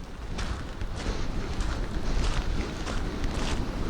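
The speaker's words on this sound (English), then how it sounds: "That wind is picking up." Strong wind gusting across open ground near a lake at an abandoned ghost town site, a steady loud rushing roar that buffets the microphone throughout, with no voices.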